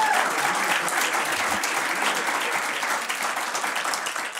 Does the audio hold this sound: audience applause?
yes